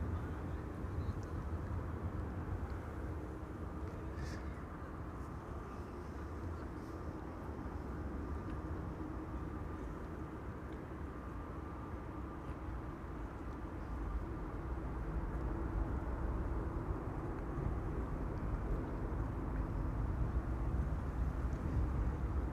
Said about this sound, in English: The A350 is coming this way.